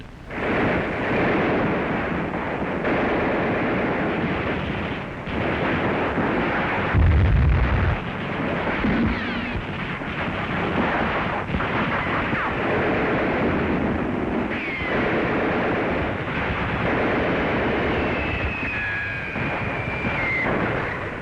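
Wartime explosions and fire in Seoul during the Korean War, heard as a continuous loud rumble of blasts with a heavier boom partway through, with no talk over it.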